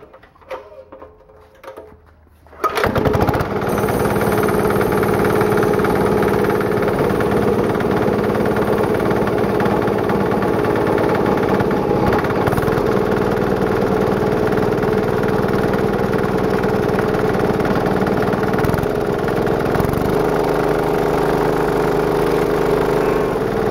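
A Chinese diesel engine powering an old air compressor starts after a quiet moment, then runs loud and steady close by with a constant throbbing drone and mechanical clatter for the rest of the clip.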